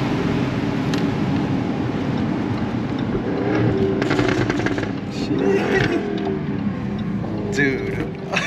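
A 2020 Jaguar F-Type R AWD with a V8 engine, driven with the top down, gives a steady, moderately loud engine drone that swells slightly, with someone talking over it.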